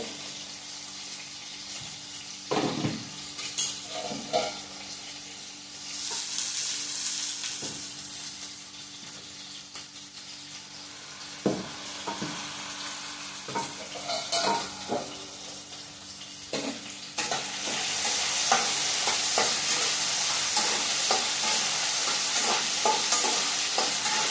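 Food fries in a pan at home as a spoon stirs it, with close scraping strokes and clunks over a low sizzle that swells louder toward the end, plus brief splashy sounds and no talking.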